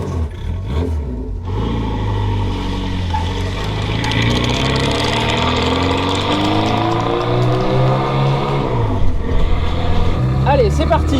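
A Renault 4L proto car starts off and accelerates, its engine rumbling low and rising steadily in pitch as it gathers speed, loud and close, with a voice talking over it.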